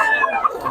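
A hen brought in for sale clucks in short, close bursts at a Filipino poultry seller's yard, with people talking nearby.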